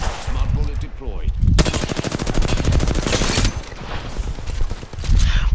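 Rapid automatic gunfire from smart bullets in the Apex Legends video game: a loud, dense burst of shots lasting about two seconds, with quieter firing and game sounds around it and voices talking.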